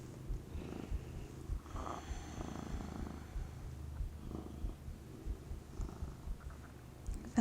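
A cat purrs close by in a quiet room, a low rumbling purr with a steady in-and-out rhythm that continues throughout, with no other sounds alongside.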